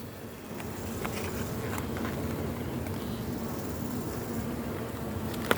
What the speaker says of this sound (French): Mais bon, il y a des abeilles.